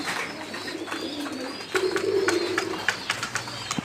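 Pigeons coo in low, rolling bursts while feeding on grit, with a steadier, louder cooing run in the middle and faint bird chirps and light clicks scattered throughout.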